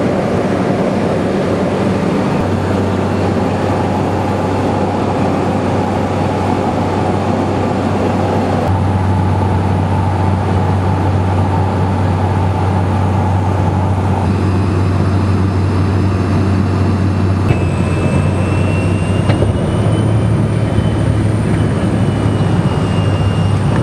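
Steady engine drone from de Havilland Beaver bush planes at Denali base camp on the glacier, a continuous low hum that holds for the whole stretch with slight shifts in pitch and no talking.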